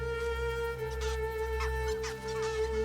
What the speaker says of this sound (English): Every evening at dusk, the ibis return in great flocks to tiny islands within the mangrove.